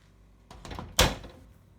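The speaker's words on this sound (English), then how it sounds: "I wasn't that keen on how the door opened actually. It was a bit of a clonk kind of catch." The oven door of an AEG CIB6740ACM induction cooker shuts with a short rattle, then a single sharp clonk as the catch engages, close and otherwise quiet.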